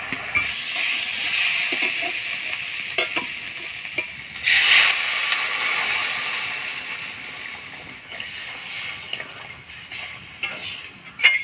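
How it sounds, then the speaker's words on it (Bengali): Sizzling and stirring of spiced taro (kochu) frying in a pan as water goes in, a steady crackling hiss with a louder burst near the middle, close and continuous with no talk. "এবার জল দিয়ে দিব।"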